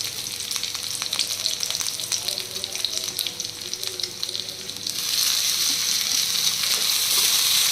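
Chowmein noodles stir-frying with garlic, black pepper and green chillies in a hot pan, a steady loud sizzle that grows brighter and more intense partway through, with faint stirring scrapes and no talk.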